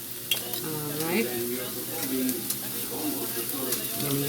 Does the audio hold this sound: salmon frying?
yes